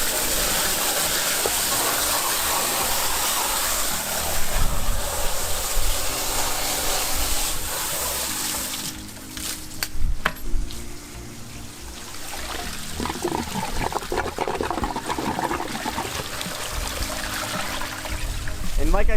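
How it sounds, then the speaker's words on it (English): Water from a garden hose gushes and splashes while rinsing out a saltwater aquarium tank, with uneven surges and a quieter trickling stretch in the middle, and a voice talks over it at times. "get the hose, and then start cleaning it out"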